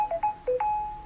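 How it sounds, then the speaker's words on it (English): A mobile phone ringtone plays a short melodic run of bright electronic tones, a few quick notes and then one held tone, close and clear with no talking. "That is my phone ringing."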